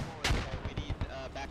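A gunshot in the tactical military shooter Squad cracks once sharply near the start, followed by several softer, more distant shots and rumbling impacts across a short battlefield moment.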